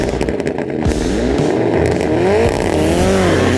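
A Mitsubishi Evo rally car pulls away at the start of a rally stage run, its engine loud and close with rising and falling revs across a few seconds, rough mechanical roar continuous throughout.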